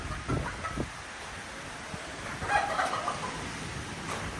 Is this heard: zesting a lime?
no